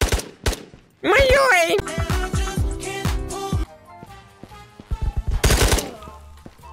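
Fast-firing gun in the VR shooter Ghosts Of Tabor, heard as clipped rapid bursts between shouts and talk, with one short loud volley near the end.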